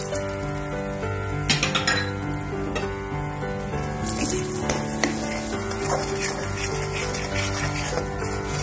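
Urad dal frying with cumin powder, turmeric, salt and sugar in a pan, giving a steady, moderate sizzle with light stirring and clinks throughout.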